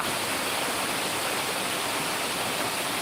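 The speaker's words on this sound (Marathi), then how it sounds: "बघा किती जोरात पाऊस पडतोय" Heavy monsoon rain pours down in Amboli in the Konkan region, a dense, loud, unbroken roar with no voices.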